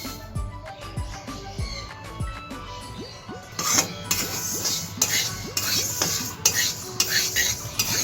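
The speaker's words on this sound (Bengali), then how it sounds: "এইভাবে অনবরত নেড়ে আমি ডালটাকে ভেজে নেব।" Moong dal dry roasting in a pan is scraped and stirred continuously with a metal spoon, giving close, rhythmic scraping strokes and clinks over a faint background hiss.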